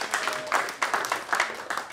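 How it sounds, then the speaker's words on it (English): A small comedy club audience claps in a few short, scattered bursts, thin and close rather than a full ovation. "Clap if you know who Suge Knight is"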